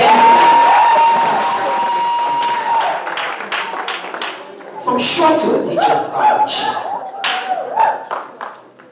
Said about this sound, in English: A round of applause for the gentleman.